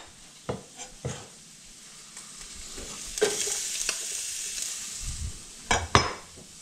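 Shallots hit a hot frying pan with a soft continuous sizzle, broken by sharp clacks and scrapes of stirring against the pan, close and fairly quiet, with no talking.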